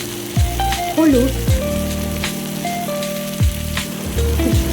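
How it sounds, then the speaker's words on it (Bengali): Oil sizzles and crackles steadily in a pan as onions and tomatoes fry, with a tuneful melody playing over it throughout. "পেঁয়াজগুলো ভাজা হয়ে গেলে আমি এখানে টমেটো কুচিটাও দিয়ে দেবো আর ভালো করে নাড়তে থাকবো"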